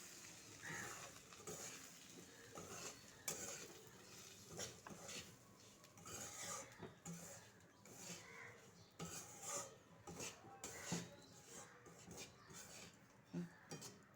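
Dry semolina (sooji) roasting in a pan, with a spoon scraping and stirring through the grains in soft irregular rubbing and clinking strokes, quiet and close, with no one talking.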